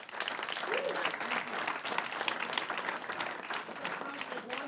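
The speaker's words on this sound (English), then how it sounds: "Let's give him a big round of applause" An audience at a film summit judges panel breaks into sustained applause, a dense, fairly quiet patter of many hands clapping continuously, with a few faint voices mixed in.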